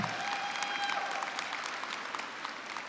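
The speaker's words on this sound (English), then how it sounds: "I ask that you give them another round of applause to recognize the parents, grandparents, aunts, uncles, and guardians assembled here today." An audience at a high school graduation ceremony applauds for the families in attendance, a dense, fairly distant patter of clapping that holds steady with no one speaking over it.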